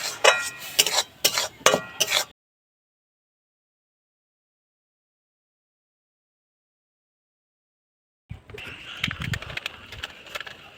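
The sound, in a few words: stirring powdered milk into carrot mixture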